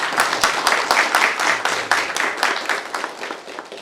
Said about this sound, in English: Can we have one last round of applause, please?